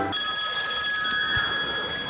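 A telephone rings with a bright, continuous electronic trill that starts abruptly and holds steady and loud, with no voices.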